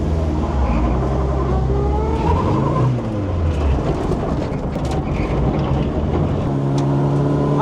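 Engine of a budget rally car driven slowly and carefully over rough ground, a steady close rumble with shifting revs and some rattling, no talk.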